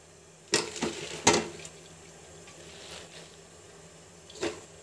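Water splashes into a cooking pot of mixed leafy greens and turmeric powder for an iron-rich leaf curry, heard as a few short, fairly close splashing bursts separated by quieter stretches.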